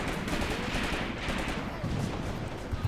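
Gunfire in the WWII tactics game Graviteam Tactics: Mius-Front, a quiet, distant crackle of rifle and machine-gun shots in rapid irregular bursts, with some voices faintly underneath.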